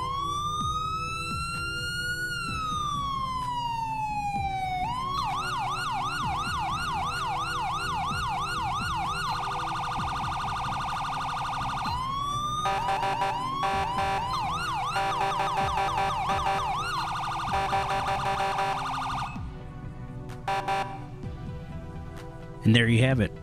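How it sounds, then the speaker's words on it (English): FiveM (GTA V) police sirens from a siren pack wail and yelp electronically, switching between several tones in long loud cycles, then cutting into brief clicks near the end. "And the sirens."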